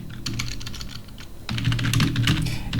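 Keystrokes on a computer keyboard while entering text in a WordPress block editor, a fast run of crisp close clicks with a brief pause, then a denser, louder burst of typing.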